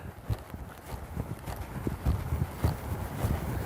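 A horse lopes during a flying lead change exercise, its hoofbeats a quick, soft three-beat clip-clop heard at a middling distance for a few seconds.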